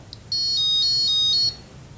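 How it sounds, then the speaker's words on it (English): An ultrasonic trap detection alarm goes off with a shrill, high electronic tone pulsing in rapid repeated beeps for about a second, loud and close against quiet background. "this guy is going to set off that alarm."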